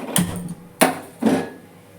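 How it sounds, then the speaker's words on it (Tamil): Three sharp clicks spaced out over two seconds as a kitchen stove is switched on before cooking an egg broccoli fry, each a distinct close snap with a short ringing tail and no talk. "இப்போ ஸ்டவ் ஆன் பண்ணிக்கிறேன்."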